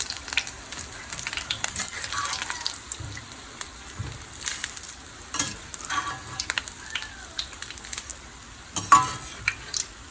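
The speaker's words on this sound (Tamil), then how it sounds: "பூந்தி நல்லா வந்து பொரிஞ்சு வந்திருக்கு" Boondi, small drops of gram-flour batter, frying in hot oil for laddu, giving a steady crackling sizzle with occasional bursts and faint clinks, fairly close and without speech.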